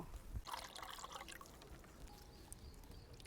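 Cluster figs are rinsed in water, giving a faint trickle and light splashing, with a brief knock near the start.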